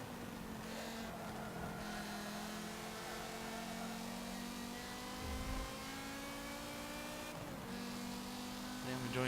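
Car engine in Forza Motorsport 7 during a Forza Drivers Cup showcase race, a continuous loud revving drone with pitch rising and falling through gear changes, close and steady, with talk over it at times.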